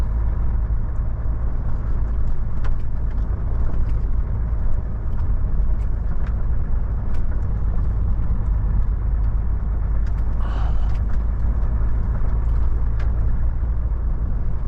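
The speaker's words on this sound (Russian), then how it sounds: "Сколько машин." Many cars and trucks driving across the frozen Lena river ice crossing near Yakutsk, a steady engine drone and road rumble from passing traffic heard from inside a vehicle, continuous with brief higher whooshes.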